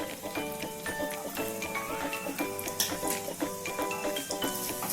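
Small chopped garlic frying in about two tablespoons of oil in a pan for chicken fried rice: a steady bright sizzle with crackling pops and occasional metallic clinks of utensils against the pan.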